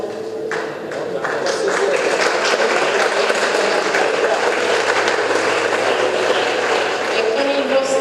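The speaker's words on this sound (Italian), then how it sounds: "E con il vostro applauso" Sustained audience applause fills the hall at the close of an award ceremony, a dense steady clatter of clapping throughout with faint voices underneath.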